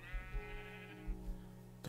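Minecraft sheep let out a wavering bleat lasting about a second, moderately loud over soft game background with a few low thumps and no speech.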